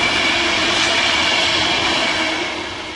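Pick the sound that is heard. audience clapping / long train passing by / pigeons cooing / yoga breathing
long train passing by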